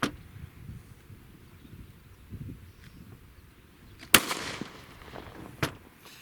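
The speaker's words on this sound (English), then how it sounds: "now let's check the handgun" A single sharp report from an M&P 9mm handgun fired into a 2x6 board outdoors, heard at a distance, followed a moment later by a fainter second crack, with low rumbling background between.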